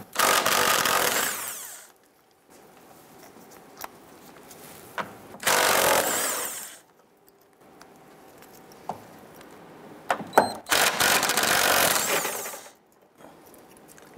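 A power tool works 19mm bolts loose on a Jeep Wrangler, with three loud whirring bursts separated by quiet gaps holding faint clicks and metal clinks, close by and without talk.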